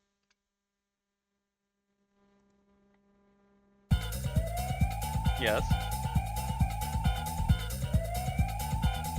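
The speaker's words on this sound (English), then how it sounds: "like, police siren in the background." Sonic Bad Future video game music bursts in after a near-silent stretch and a brief spoken word, carrying a wailing police siren sweep over a steady, pulsing backing track.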